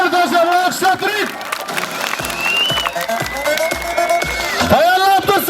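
Audience applauding a wrestler at a school Navruz festival wrestling bout, a dense clatter of clapping from a crowd with a voice calling out over it and a few raised shouts near the end.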